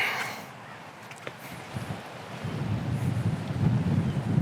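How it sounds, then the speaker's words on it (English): Strong wind on a disc golf course buffets the microphone in a low, rumbling roar. It eases briefly, then builds louder and gustier toward the end, with no clear speech. "That wind is something."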